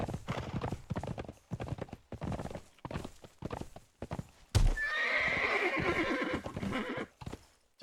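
In the game Conan Exiles, a horse's hooves clip-clop in a quick, steady rhythm, then a loud, drawn-out neigh breaks out close by and carries on for a couple of seconds before fading.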